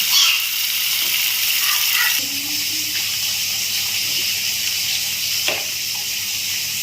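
Chopped onion and garlic sizzling in a pan, a steady bright hiss close by with a few faint clinks, the sizzle dropping slightly partway through and continuing evenly.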